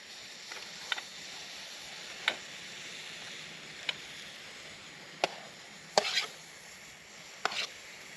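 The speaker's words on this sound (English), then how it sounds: "Slicing up the pigeon into bite-sized bits." A knife cuts pigeon meat into pieces at a wild camp, giving sparse, sharp taps at irregular intervals against a low, steady background hiss.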